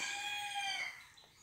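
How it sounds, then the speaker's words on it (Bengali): A rooster crows outdoors at early morning before sunrise, giving one drawn-out call that sounds faint and distant before it trails off. "বাইরে মোরগ ডাকছে।"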